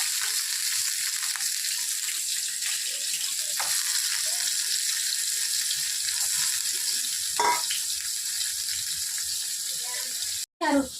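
Salted fish frying in oil in a kadai gives a steady, close, hissing sizzle for the whole stretch, broken by a couple of sharp clinks and a brief dropout near the end.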